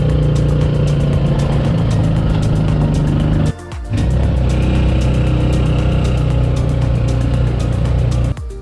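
A motorized tricycle engine drones loud and close during a ride on a Philippine road, a steady rough rumble that briefly dips for a moment before resuming at full strength.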